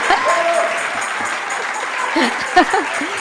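A church congregation applauding its preacher, sustained clapping from a roomful of people with scattered voices and a voice speaking over it.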